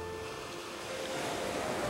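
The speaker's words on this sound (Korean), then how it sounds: "파도 치는 것도 보고" Sea waves breaking on a shore, a soft, steady wash of surf with no distinct crash, heard alone and fairly faint.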